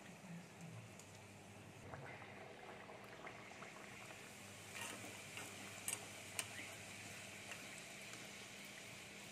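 Luchi frying and puffing in hot oil in a village kitchen, a faint steady bubbling and hiss with a few soft ticks, no talking.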